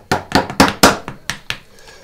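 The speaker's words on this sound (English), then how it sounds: "I'm going to actually use the chisel to create a traditional mortising stop cut." Steel chisel struck to make a traditional mortising stop cut in wood for a wooden letter opener, about seven sharp close knocks in quick uneven succession, loud and dry with no talk.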